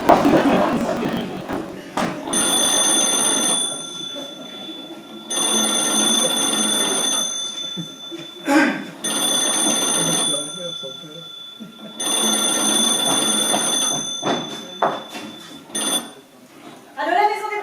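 An old-style telephone bell rings on a theatre stage in repeated bursts of about two seconds, separated by pauses filled with footsteps and stage bustle, loud and close, with people talking in French around it.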